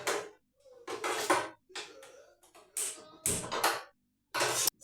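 A metal cooking pan is handled and shaken to dry off water before oil goes in for sweet potato fritters, giving short, close, intermittent bursts of scraping clatter separated by brief silences.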